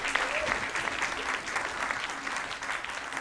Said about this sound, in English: let's give it up again for these wonderful performances so far